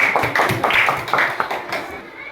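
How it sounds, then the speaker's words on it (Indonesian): A group of elementary school children clap their hands together in a quick, slightly ragged rhythm during an anti-corruption session in a classroom, close and fairly loud with a few voices mixed in. "Nah, tepuk tangan."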